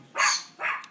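Dogs give two sharp, close barks in quick succession, loud and clear with no talking around them.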